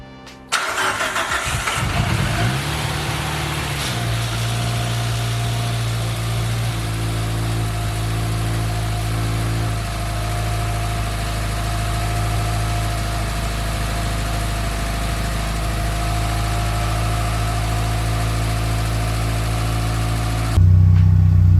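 A car engine cranks and catches, revving briefly before settling into a steady, rumbling idle that continues close by, with a final louder surge at the end.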